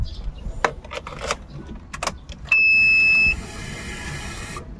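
A Suzuki Every Wagon with a stuck turbo starts up: a few sharp clicks and key rattles, a short electronic beep, then the engine catches and runs with a steady, fairly quiet hum to the end.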